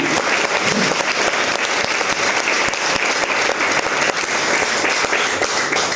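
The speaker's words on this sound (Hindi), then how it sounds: "जोरदार ताली होनी चाहिए, धमाकेदार एक्साइटमेंट वाली ताली होनी चाहिए भाई।" A large crowd claps loudly and continuously, dense sustained applause filling the whole stretch without letting up.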